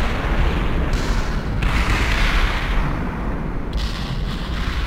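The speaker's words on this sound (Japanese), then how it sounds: "空爆来てる" Loud, continuous rumbling booms of air strike explosions in the video game Last Tide fill the scene, with dense overlapping blasts and no clear pauses.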